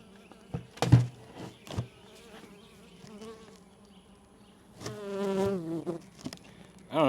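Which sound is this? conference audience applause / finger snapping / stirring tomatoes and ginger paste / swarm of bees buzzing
swarm of bees buzzing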